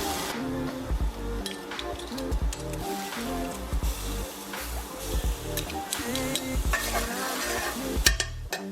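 Extra virgin olive oil is stirred around a frying pan on medium heat, with an utensil scraping and knocking against the pan in an irregular rhythm over a soft sizzle. Near and moderately loud, no voices.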